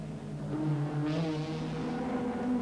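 A Ford Sierra and a BMW M3 race at the 1990 Macau Guia Group A event, engines droning loud and steady with rising and falling pitch, sounding close and continuous.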